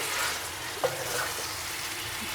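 Lotus stem curry cooking in a pan gives a steady, soft sizzle throughout, with one brief scrape or clink of stirring partway through.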